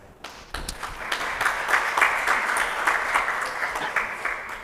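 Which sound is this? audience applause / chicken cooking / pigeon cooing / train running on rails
audience applause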